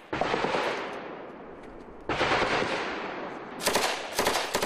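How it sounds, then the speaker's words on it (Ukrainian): Sustained bursts of machine-gun fire, loud and rapid, in two long volleys followed by a few sharper, closer cracks. "Вже ззовні бойовики знову відкривають вогонь"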